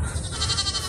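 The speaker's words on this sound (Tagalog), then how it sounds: "Ayan, mga kambing natin." Native farm goats bleat close by in a brief, wavering nasal cry, one quick call that fills the second with its pulsing, tremulous tone.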